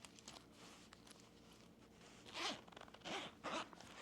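A zipper on a thrifted zip-in mock-neck jacket lining is pulled in several quick, close rasping strokes, fairly quiet and with no talk over it.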